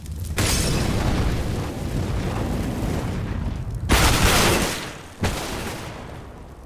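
An incendiary grenade is thrown and bursts into fire in the Counter-Strike: Global Offensive video game during a match, with loud whooshing roars of flame that flare up and die away three times, close and alone.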